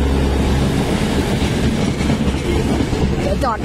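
Thai commuter train 4321 bound for Mahachai rumbling steadily along the rails, a dense, loud continuous roar of wheels and carriage with a brief squeal near the end.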